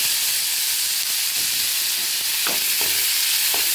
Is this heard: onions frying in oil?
yes